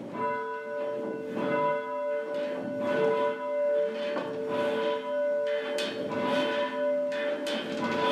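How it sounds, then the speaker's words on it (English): A church bell at Chardstock is raised by bell ringers, sounding repeated loud ringing strikes with long resonant tones that overlap and swell, with no voices. "So we're going to raise a bell now"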